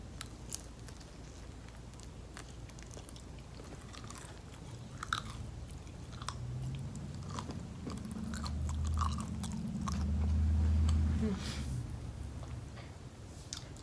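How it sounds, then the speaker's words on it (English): Crunchy Asian food dipped in soy sauce being bitten and chewed up close, a steady run of crisp crackling bites that swell louder toward the end, with no talking. "I'm going to show you how crunchy it is."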